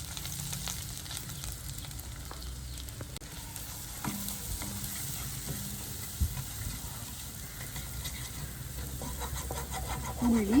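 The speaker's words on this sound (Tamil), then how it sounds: "உள்ளி ஒட்ட விடாமல் வாண்டி கொண்டே இருந்தோம்" Chopped garlic frying in a pan for a quick noodle dish sizzles steadily as it is stirred and scraped without pause, with a brief louder burst at the end.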